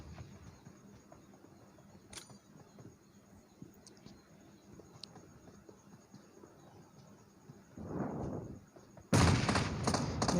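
Cooked grenade in a battle royale shooter game: a quiet stretch of ambience and faint clicks, then a muffled burst followed by a much louder, sustained blast near the end.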